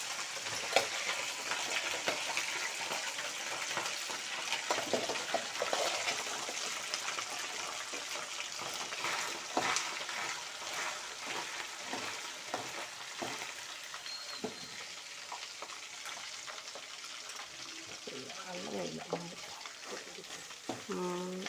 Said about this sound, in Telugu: ఆయిల్లో వేయించుకోవాలి ముక్కలు ఎర్రగొచ్చేదాకా